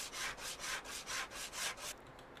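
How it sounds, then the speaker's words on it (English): A coarse sander rubs over a car body in a car dealer simulator video game, seven even back-and-forth scraping strokes in a steady rhythm, then stopping, with no talk. "I just used the coarse sander on it."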